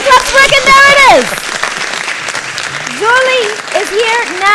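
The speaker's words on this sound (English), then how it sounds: "If I can make these hand claps work, and there it is." Hand claps sound effect triggered during a live stream, a burst of clapping washing over a backdrop of music and voice, loud and close, fading slightly midway before swelling again.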